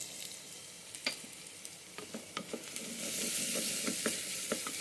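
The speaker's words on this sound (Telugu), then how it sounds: "కొంచెం అది పచ్చివాసన పోయే వరకు కలపండి" A masala paste of browned onion, turmeric and lemon is stirred in a pan, sizzling steadily while a spoon scrapes and taps in short irregular strokes, the frying hiss swelling louder toward the end.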